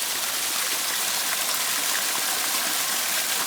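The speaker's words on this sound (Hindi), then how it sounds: "तो ये पहाड़ों से ऊपर से पानी आ रहा है।" Rainwater rushing down from the mountains after heavy rain, a steady loud hiss of streaming water, constant and close with no pauses.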